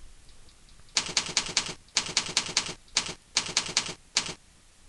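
Keystrokes on a computer keyboard while entering a username, in quick bursts of sharp clicks separated by short pauses, close and clear with no talking.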